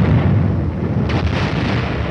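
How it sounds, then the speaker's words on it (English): Air bursts from a battalion of 105mm howitzers rumble as a dense, continuous roll of heavy booms, loud and low throughout, with a sharper crack of overlapping bursts about midway. "The air bursts fired by a battalion of 105mm howitzers present a lively show."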